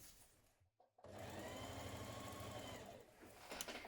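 A sewing machine stitches a 1.5 cm seam joining lining to a dress bodice, starting after a brief pause and running as a steady, quiet mechanical whir.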